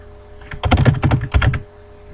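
Rapid clatter of keys on a computer keyboard while entering Japanese kana into a prototype textbox, a dense burst of close, crisp keystrokes lasting about a second, then quiet.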